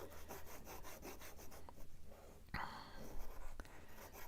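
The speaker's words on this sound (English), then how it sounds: "then I'll cut the rest of it off" Excess paper from a junk envelope bellyband is trimmed away, with soft rubbing and scraping close by, then a couple of sharp, crisp cuts, all quiet and without talk.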